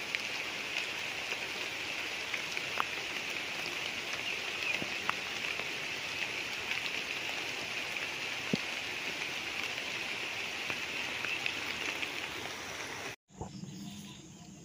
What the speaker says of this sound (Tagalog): Medyo malakas nga lang ang ulan.